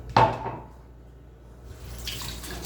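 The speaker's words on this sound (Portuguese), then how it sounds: "Sempre lavando as mãos" Hands washed under a running kitchen tap during preparation of a savory chicken and requeijão pie: a sharp splash at the start, a quiet lull, then steady running water returning toward the end.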